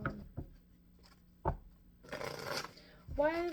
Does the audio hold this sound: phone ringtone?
no